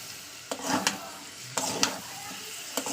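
Tomatoes sizzle in a pan for a prawn curry with raw cumin paste, steady frying under a few quick stirring scrapes, close and moderately loud.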